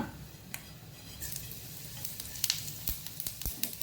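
Cumin seeds sizzle in hot oil for tempering a curd dish, a steady close frying hiss broken by small pops and crackles as they are stirred.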